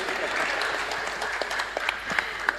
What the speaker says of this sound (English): Clap for ChatGPT, please.